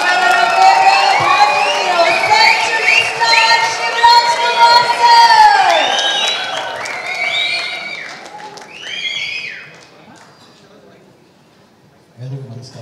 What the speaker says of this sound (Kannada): ಸೊ ಒಂದು ದೊಡ್ಡ ಚಪ್ಪಾಳೆಯೊಂದಿಗೆ ಸ್ವಾಗತಿಸಿ